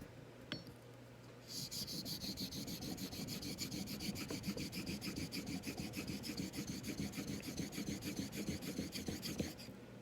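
Rapid, even back-and-forth honing strokes set the bevel on a Filarmonica 14 straight razor, a steady raspy rubbing of steel on stone that runs close and continuous for most of the stretch after a brief quiet start.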